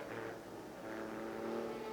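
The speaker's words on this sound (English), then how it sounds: "I'm surprised they're having engine trouble. And if we can listen, it sounds ugly" A Toyota sports car engine with engine trouble runs rough at a racing event, a harsh uneven drone that rises and falls and stays moderately loud throughout.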